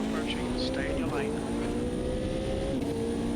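Race car engine in the sim racing game Automobilista 2, a steady rising drone with gear-shift dips and a brief whine, loud and continuous as another car closes in; a voice speaks over it.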